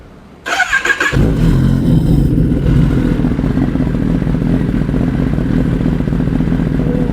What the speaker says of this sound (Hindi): तो अब सुनते हैं एक इनलाइन 4 सिलेंडर की आवाज़